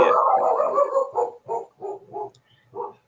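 A dog barks nearby, starting with a longer growly woof and then four short, evenly spaced barks with brief pauses between them.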